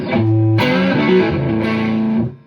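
An electric guitar runs through a Blackstar Amped2 with gain and reverb, playing a few loud, sustained distorted chords and notes that ring out and then fade with a reverb tail.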